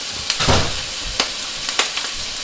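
Tomato sauce poured onto browned meat sizzles loudly in a hot frying pan, a steady crackling hiss broken by several sharp bursts and stirring scrapes, close and without talk.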